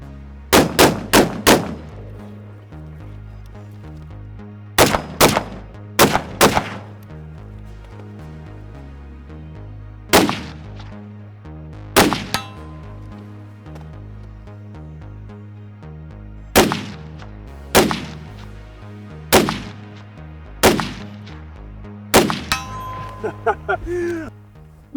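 FAL short-stroke gas-operated battle rifle firing at steel targets outdoors, sharp loud shots arriving singly and in quick pairs with pauses between, some followed by faint metallic pings from hit steel.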